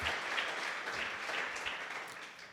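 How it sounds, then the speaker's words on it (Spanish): A church congregation applauds steadily during an evening Spanish-language service, with dense, continuous clapping at moderate volume throughout and no speech over it. "Dale un fuerte aplauso a Dios."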